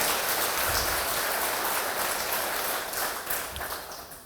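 A church congregation gives sustained applause, a dense, steady wash of clapping that fades slightly toward the end.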